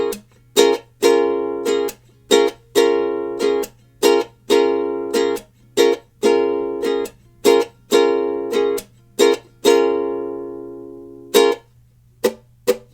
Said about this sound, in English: Let's first start off by going over the pre-chorus strumming pattern without any chords